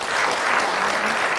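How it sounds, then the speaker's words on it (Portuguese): Brief burst of studio audience applause welcoming a clinical psychologist on a parenting television program, dense steady clapping filling the whole moment. "Um aplauso para ela"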